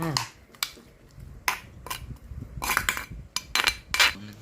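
A spoon clinks and scrapes against a bowl as raw pork is mixed into tamarind chili paste. The bright metallic taps are irregular and close, under a voice speaking.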